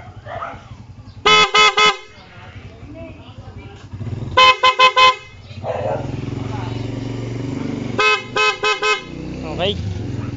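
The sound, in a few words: PIAA dual horn on Raider 150 motorcycle honking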